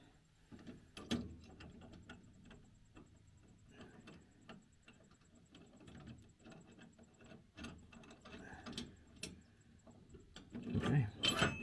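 Nut being tightened onto a 2023 Jeep Gladiator JT bed rack, with a run of quiet ratcheting clicks and small metallic ticks, close and fairly soft, growing louder near the end, with no talking.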